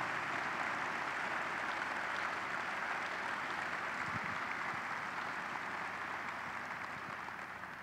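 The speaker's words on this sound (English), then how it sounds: "please join me in applause for these great, legendary American leaders" An audience at a military change of command ceremony at Scott Air Force Base applauds, a dense, steady wash of clapping that holds evenly throughout and eases slightly near the end.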